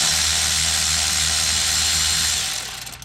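An electric wrench loosens a bolt on an accessory shaft flange with a loud, steady buzzing whir and rattle that runs for over two seconds and then winds down.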